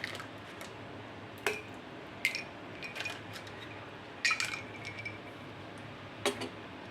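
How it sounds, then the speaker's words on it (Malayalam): Several sharp clinks of ice cubes dropped into a glass of juice, scattered irregularly over a soft steady background hiss, each a brief bright tap. "ഇനി നമുക്കിതിലേക്ക് ആവശ്യത്തിന് ഐസ് ക്യൂബ്സും കൂടി ഇട്ട് കൊടുക്കാം"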